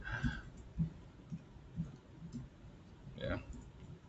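Someone types an email address on a computer keyboard: sparse, light key clicks at an unhurried pace, with a voice speaking briefly near the end.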